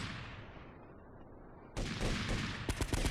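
Gunfire while shooting enemies in the video game GTA Vice City Stories: after a fading hiss, a burst of loud, rapid shots with several sharp cracks near the end.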